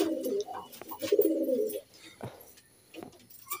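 A female pigeon of the giribaz breed coos in low, throaty rolling bursts, two clear phrases near the mic followed by softer murmurs and faint rustling.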